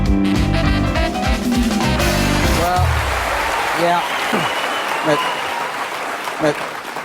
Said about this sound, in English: Thank you for that applause, and that was just for the adverts.